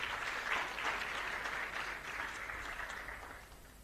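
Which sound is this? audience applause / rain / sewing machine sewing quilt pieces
audience applause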